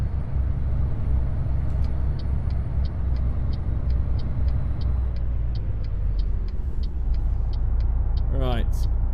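Freightliner Argosy truck engine in American Truck Simulator, a steady low diesel rumble running the whole time with a regular ticking pattern overhead and a brief rising tone near the end.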